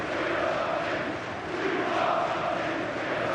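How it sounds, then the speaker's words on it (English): Chelsea fans sing in a packed stadium crowd during a 2004/05 Premier League match away at Fulham beside the River Thames. The dense, steady roar of many voices carries throughout. "The crowd are singing, "We are top of the league," the Chelsea fans"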